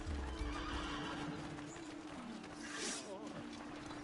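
Horse whinnying and clip-clopping hooves in the video game Assassin's Creed II, a neigh early on over continuous hoof and game background noise, with speech-like sounds mixed in.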